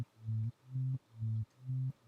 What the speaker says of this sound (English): I just wanted to have a glide effect on the bass